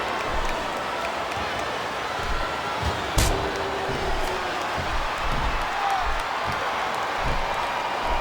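A wrestling crowd at a hardcore match roars steadily throughout, a dense continuous hum of voices with one sharp slam-like impact partway through.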